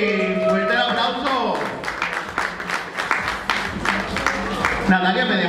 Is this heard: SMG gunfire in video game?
no